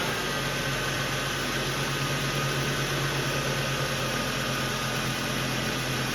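A Ford engine runs after its drive belt tension was fixed, giving a steady, even hum and whir with no squeal, continuous and close, without talking.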